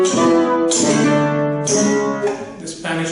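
Nylon-string flamenco guitar plays the Andalusian cadence, four descending chords sounding in turn with bright strummed attacks and ringing sustain, loud and close, with no voices.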